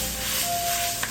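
Meat coated in tomato paste sizzles loudly in a pan while being stirred, a steady close frying hiss with a brief scrape near the end.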